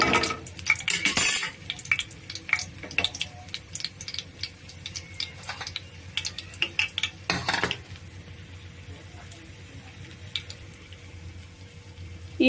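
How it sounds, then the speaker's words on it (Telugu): Whole spices and garlic fry in oil in a pan for a Telugu raw-banana stir-fry, with frequent metallic scrapes and clinks of a spoon stirring against the pan over a faint steady sizzle, close and alone, busier in the first half and then quieter. "దినుసులు వేగుతున్నాయండి, ఇంకొంచెం వేగాలి."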